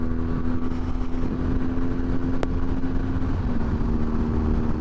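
A 2022 BMW R NineT Scrambler cruises at highway speed in sixth gear, its steady engine drone mixed with continuous wind rush, loud and unbroken throughout with a faint whine.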